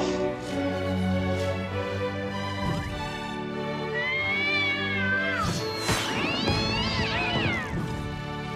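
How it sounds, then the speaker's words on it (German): A cat meows several times at close range, with drawn-out, rising and wavering cries growing more insistent toward the end, over a steady background hum. "Miau."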